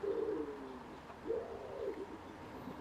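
A wood pigeon in a garden gives soft, low, breathy coos in two short phrases, moderately close against quiet outdoor background.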